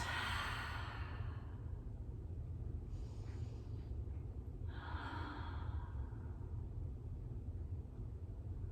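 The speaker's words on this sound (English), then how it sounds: "Deep breath in, out." Deep exhales during a yoga flow: two soft, drawn-out breathy sighs a couple of seconds apart, close and quiet against a low background hum, with no talking.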